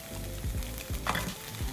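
Leftover white rice from the night before sizzles as it is stir-fried with scrambled egg for fried rice, a steady hiss broken by repeated scraping stirs of the spatula, close and with no talk.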